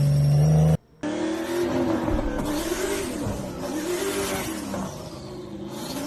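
A Lexus with a very loud aftermarket exhaust revs hard, a deep roaring engine note that rises and swells, sustained and close after a brief cut at the start.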